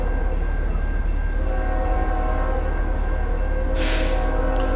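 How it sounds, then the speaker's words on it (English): A freight train rolls past in Dalton, Georgia, a loud steady rumble with a sustained horn blast, joined near the end by a brief bright screech or hiss, its sound echoing off nearby buildings. "Anyways, it's train time in Dalton."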